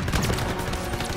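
A battle in Call of Duty WW2 brings dense, loud gunfire: rapid overlapping shots and bursts under a continuous wash of combat noise.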